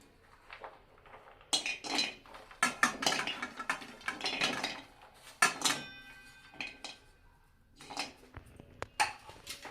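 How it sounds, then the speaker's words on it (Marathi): Grated coconut is roasted in oil in a pan, stirred in bursts of loud metallic scraping and clatter, with brief pauses between strokes. "सर्वात आधी मी तर आधी खोबरं परतून घेते"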